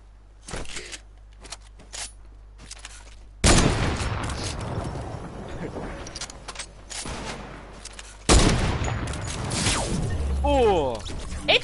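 Video-game gunfire, opening with scattered light cracks and then breaking into two loud, dense bursts of rapid automatic shooting, with mechanical clatter and a voice speaking in between.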